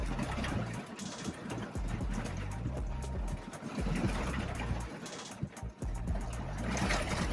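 Heavy rain drums steadily on a car's roof and windows from inside, a dense, loud patter with sharp individual drop hits and a low rumble underneath, with no talking.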